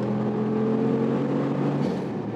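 A Brabus G800 built on the AMG G63 accelerates hard, its engine note climbing in a loud, close, continuous roar that dips slightly near the end.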